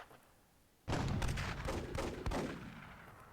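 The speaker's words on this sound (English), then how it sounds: "Launching some RPGs." RPG rockets launch in the Myth II game as a sudden loud burst of blasts and rumbling booms after a quiet start, with a second hit about 1.4 seconds later.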